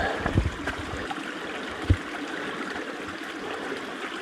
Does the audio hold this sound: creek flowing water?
yes